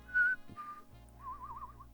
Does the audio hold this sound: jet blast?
no